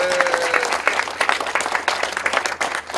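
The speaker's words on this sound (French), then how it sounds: "Et voilà, vous pouvez applaudir." Crowd applause at the inauguration of a social housing residence, a dense, steady burst of many hands clapping close by.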